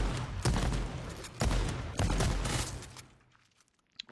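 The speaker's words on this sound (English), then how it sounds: "I'm firing a potato cannon, guys." A potato cannon fires in a video game, giving several loud, booming blasts in quick succession that each roll off into noise, then a brief quiet and a faint click, with no talk.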